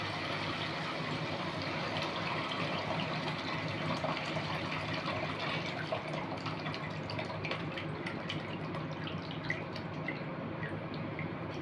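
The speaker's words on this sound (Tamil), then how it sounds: "இப்போ வந்து நம்ம இதில் வந்து புளி தண்ணியை ஊற்றிக்கலாம்" Tamarind water being poured into a thick neem-flower kara kuzhambu, a steady liquid trickle and drip running continuously at moderate level with no voices.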